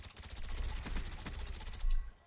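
Rapid automatic gunfire from Call of Duty Black Ops online multiplayer rattles in dense, continuous bursts for about two seconds, then cuts off abruptly.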